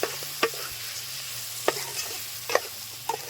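Chili powder being stirred into sambar in a pan: a low simmering bubble runs underneath, and several sharp, close scrapes and knocks of the spoon come at irregular intervals.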